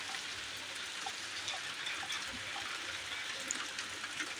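Rain falls in the countryside after a spell of heat, a faint, even wash of water noise with scattered small drips and taps, quiet and without speech.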